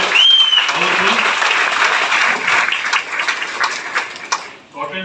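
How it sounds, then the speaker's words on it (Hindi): Audience applause at a marketing business meeting, loud sustained clapping from a crowd that tapers off near the end, with a brief tone at the start. "मैडम के लिए एक बार जोरदार ताली होनी चाहिए।"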